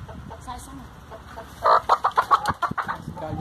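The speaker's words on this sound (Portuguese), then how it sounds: "Que são as galinhas." Free-range hens on a rural smallholding cluck in a quick burst of rhythmic calls after a quieter stretch, close and fairly loud, with soft talk-like sounds faintly behind.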